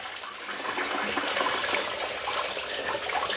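Engine coolant drains from an abandoned pre-merger AMG car that sat for 27 years, pouring into a drain pan as a steady, close, fairly loud splashing trickle that lasts throughout.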